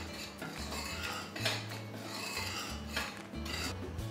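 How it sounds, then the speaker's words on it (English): Dry baking ingredients, including baking soda and salt, stirred in a bowl, giving a soft, continuous scraping and rubbing with faint utensil clinks against the bowl, quiet and close. "give your dry ingredients a good mix"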